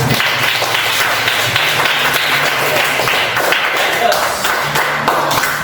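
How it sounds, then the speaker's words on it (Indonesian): A class of students claps together in a school classroom, a bright patter of hands mixed with a few thumps and taps, while voices carry on beneath the clapping. "Bapak beri tepuk tangan semuanya."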